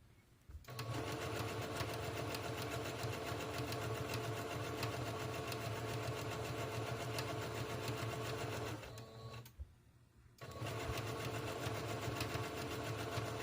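A sewing machine runs steadily while chain stitching scrunchies with black thread, a close, continuous mechanical whir that stops briefly near the end before starting up again.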